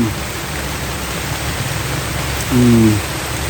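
Steady rain hisses on a surface, a dense wash of drops with a brief low hum rising near the end.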